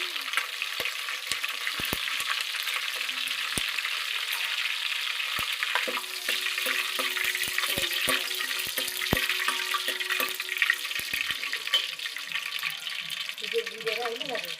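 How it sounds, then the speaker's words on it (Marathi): Curry leaves crackle and sizzle steadily in hot oil in a home kitchen while cooking pav bhaji, with sharp pops and spatters over a continuous frying hiss throughout. "आता कढीपत्ता टाकला. तेल कडा उकळी आली ना, गरम झालं ना चांगलं तेल"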